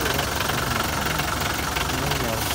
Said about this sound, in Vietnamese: đây là cái khối động cơ của nó nè